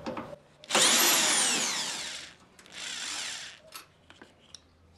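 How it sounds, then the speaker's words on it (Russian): Power tool with an 8 mm socket unscrewing the bolt on a clamp that holds a spring, heard as two loud whirring bursts up close, followed by a few quieter clicks and taps. "откручиваем скобу, которая фиксирует пружину, откручивая этот болт"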